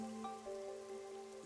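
Steady, quiet rain falling in the video game Master Detective Archives: Rain Code, a soft continuous patter under faint tonal game music, with no one speaking.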